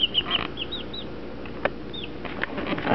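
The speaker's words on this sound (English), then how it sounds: "We got us some more Americanas. This is what we had before. Just real pretty chickens" Americana chickens cluck and give short, bright chirping calls, with a sharp peep here and there and faint rustling behind. Several birds sound close together in an enclosed space, and no one speaks.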